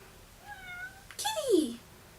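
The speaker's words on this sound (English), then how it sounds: "Kitty!" A house cat gives a loud, close meow with a falling pitch after a short, softer tonal call, heard in a quiet indoor room.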